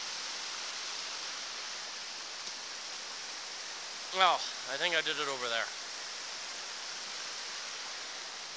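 A creek flows steadily along a February hike on Spruce Knob in the Monongahela, its constant broadband rush filling the whole stretch while someone speaks briefly midway.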